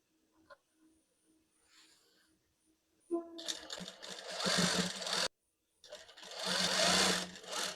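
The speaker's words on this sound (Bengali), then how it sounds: "গলার পট্টিটা প্রথমে আগে এভাবে সেলাই দিয়ে নেবেন।" A sewing machine runs in two bursts of rapid, close stitching along the neck strip of a kameez, separated by a short pause and preceded by quiet handling sounds.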